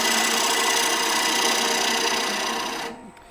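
A lathe turning a wooden bowl while a tool makes a flat cut across the base after tenon removal: a steady, close, buzzing scrape that holds evenly, then drops away at the end.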